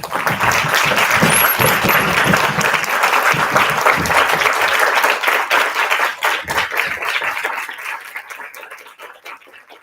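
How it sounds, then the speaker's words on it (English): An audience in a hall applauds the judges as they leave, producing dense, loud, sustained clapping that thins out and fades over the last couple of seconds. "Please stand up and give them warm applause."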